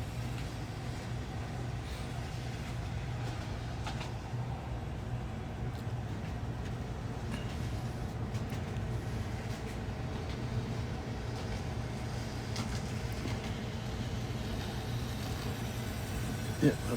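A rail track maintenance pickup truck runs in reverse at full speed, giving a steady rumbling drone with rattling and rail noise throughout.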